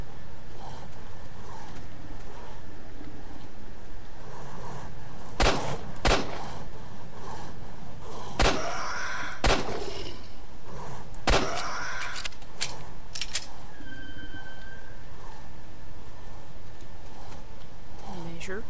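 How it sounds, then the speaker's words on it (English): Gunshots in the video game S.T.A.L.K.E.R. Lost Alpha, a handful of sharp, separate shots spaced a second or two apart over a low ambient background, with a person talking between them. "Shots, taking your time. Like I said, measured shots"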